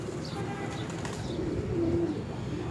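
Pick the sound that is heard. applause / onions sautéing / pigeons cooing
pigeons cooing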